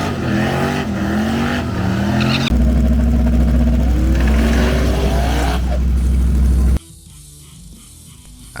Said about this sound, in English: an LS Swap 300ZX with a massive turbo